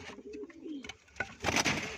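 Pet pigeons cooing nearby, soft low throaty coos with brief chirps, ending in a louder rustling burst.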